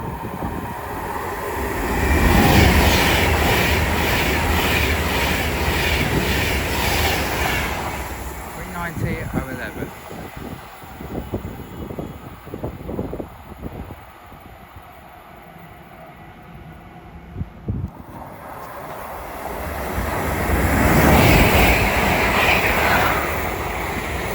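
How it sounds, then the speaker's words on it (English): An Avanti West Coast Class 390 Pendolino passes on the West Coast Main Line at Watford Junction, a loud rushing roar that builds, rumbles past with clattering and fades, then swells again near the end. "As also about to pass will be a Advent West Coast 390 Pendolino going from London Euston to Manchester Piccadilly."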